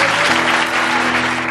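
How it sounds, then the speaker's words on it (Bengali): A church congregation claps loudly in praise to God, a dense, steady wash of applause with a faint underlying tone and no clear speech. "ঈশ্বরের জন্য জোরে করতালি দিন।"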